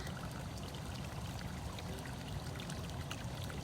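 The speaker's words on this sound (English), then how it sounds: "she loves to splash" Steady splashing and trickling of pool water as Sonia plays, a continuous wet wash heard fairly close with no pauses and no voices.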